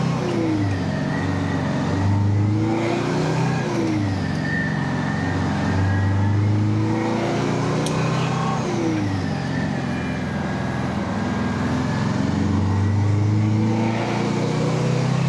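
A 1969 Peterbilt 359 truck engine runs steadily close by, a loud continuous diesel rumble with a few slow swells in revs and no talk over it.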